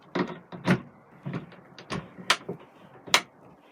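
Window catches on a Coachman Vision 560/4 caravan are pressed and opened, giving a series of short plastic clicks and clunks at an uneven rhythm, close and fairly quiet, with no talking.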